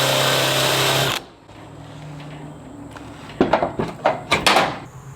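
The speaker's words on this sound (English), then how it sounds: "And a Forstner bit to drill out some holes." A power drill with a Forstner bit bores holes in wood for a sheep mineral feeder, whirring loudly before cutting off, followed by several sharp knocks and clunks nearby.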